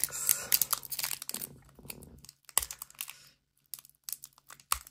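Foil wrapper of a Pokemon Paldea Evolved booster pack being torn open by hand without scissors, a close run of crinkling, ripping bursts with brief pauses and a final sharp rip.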